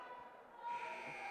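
Buzzer at a high school varsity basketball game, a sustained electronic tone swelling from faint to a steadier blare over gym ambience and distant talk.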